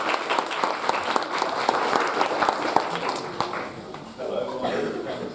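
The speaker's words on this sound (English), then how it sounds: "big round of applause." An audience at a talk gives a guest speaker a sustained round of applause, dense clapping that fades out toward the end as a voice begins speaking.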